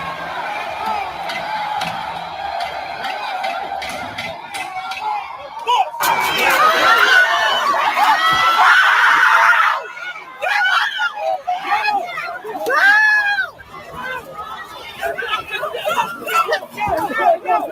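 A rioting crowd shouts and screams in a street, a roaring wash of voices swelling loudly in the middle, with a commentator talking over the noise throughout.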